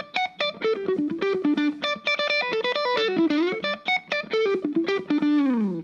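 Electric guitar with distortion and effects plays a fast, bright melodic sequence adapted from Aaron Copland's Rodeo, loud and continuous with quick note runs and a sliding phrase at the end, no talking.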